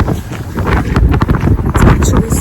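Strong wind buffets an outdoor microphone on a cold, snowy day, a loud continuous roar and rumble lasting throughout, with a voice talking underneath.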